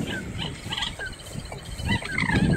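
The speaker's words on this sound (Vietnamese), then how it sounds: "Tiếng mắt đỏ này ăn sát loa đấy các bạn." Red-eyed night birds call close by at night, a series of short squawking, gobbling notes in quick irregular bursts, fairly loud, with no speech over them.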